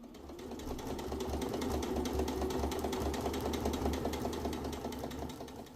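Sewing machine running steadily to straight-line quilt an orange log cabin quilt, a continuous rapid needle rhythm with a low motor hum, close and fairly loud throughout with no talking.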